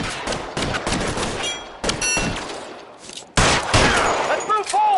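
Gunfire in the crime game L.A. Noire: heavy, sustained volleys of shots with echoing impacts and a sharp renewed burst near the end, loud and close, with voices faintly under the shooting.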